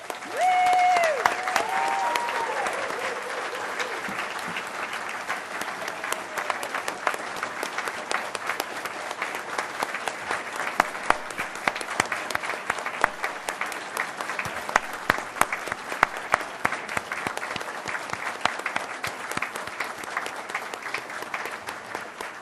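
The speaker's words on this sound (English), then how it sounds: "give a last rousing round of applause to all of the winners" Steady, dense applause from an audience honouring award winners at an excellence awards ceremony, a continuous patter of many hands clapping at moderate distance for over twenty seconds.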